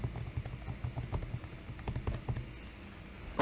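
Quiet rapid key presses as numbers are typed into a calculator, an irregular patter of small plastic clicks close by, alone.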